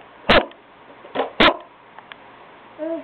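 A man mimics a dog's bark with his voice in a home setting, producing three short, loud, close-up barks in an uneven rhythm, followed by faint soft voices.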